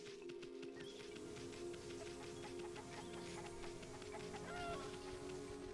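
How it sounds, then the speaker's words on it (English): Chickens in a video game cluck faintly and repeatedly under a steady, droning game soundtrack, the short clucks scattered through the background rather than standing out. "Chickens!"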